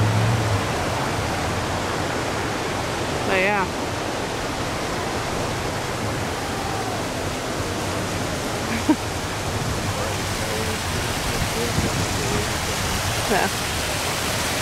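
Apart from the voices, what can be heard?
river flowing beside the riverwalk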